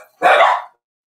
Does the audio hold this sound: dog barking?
yes